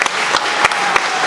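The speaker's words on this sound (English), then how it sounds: "let's give a round of applause for the people that worked" An audience at a district student fair gives a short burst of loud, dense applause for the judges and organizers, with a few sharper claps standing out in the steady clatter.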